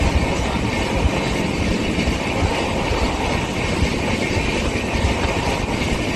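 The Barbil Jansatabdi Express (12021) running, heard from onboard as a loud, steady rumble and rushing roar with faint rail clatter, unbroken and without talk.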